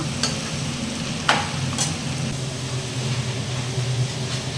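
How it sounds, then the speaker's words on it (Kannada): Tomato and onion with salt fry in a pan, giving a continuous dense sizzle at close range with a low hum beneath and a few sharp scrapes or taps spaced apart. "ಈ ಟೊಮೊಟೊ ಮತ್ತು ಈರುಳ್ಳಿ ಚೆನ್ನಾಗಿ ಫ್ರೈ ಆಗಬೇಕು"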